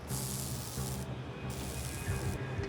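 Pepper spray hisses in short, close bursts during a police training drill, two long spurts separated by a brief pause, with a third starting at the end, fairly faint overall.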